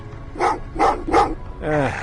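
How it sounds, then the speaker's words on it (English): Dogs barking in the Terminator: Resistance video game: three sharp, fairly close barks in quick succession, then a longer whining yelp, with no talking over them. "Oh, what's with the dogs?"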